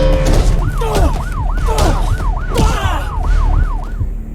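Wailing ambulance siren during a film car chase, sweeping up and down in a rapid repeating rhythm over a roaring engine and traffic noise, loud and close.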